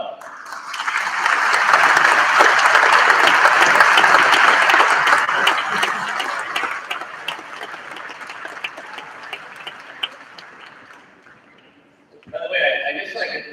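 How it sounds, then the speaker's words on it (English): A large crowd applauds loudly, swelling quickly then gradually fading over about ten seconds, before a voice speaks again. "give you a nice, huge round of applause."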